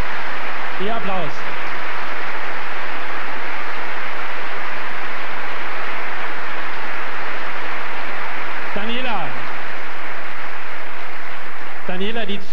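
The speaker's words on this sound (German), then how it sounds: "Ihr Applaus." Crowd applause after a women's tennis final, a broad sustained wash of clapping filling the whole stretch, with a voice speaking briefly over it a few times.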